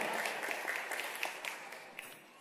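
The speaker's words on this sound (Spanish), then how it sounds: "Vamos a brindar un fuerte aplauso al papá." Guests at a quinceañera in a conference center applaud the father, a steady crowd of clapping hands at moderate distance, quiet overall and tapering slightly toward the end.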